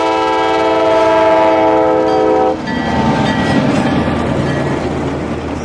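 Diesel train horn sounding a long, loud sustained blast at the Florida Railroad Museum, then cutting off to the rumble of the moving train and rail noise.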